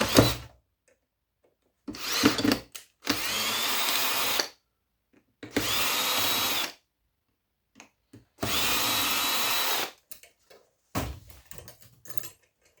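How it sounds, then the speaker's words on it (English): A power drill removing screws from circuit boards whirs in several separate bursts of a second or two each, with quiet gaps and small clicks between runs. "get my trusty drill going to take off all these screws."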